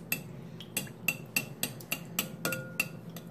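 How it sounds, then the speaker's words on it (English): A utensil stirs clear glue in a bowl for slime, clinking against the sides in a quick, regular series of sharp taps, close and fairly quiet. "now I'm gonna stir in this clear glue"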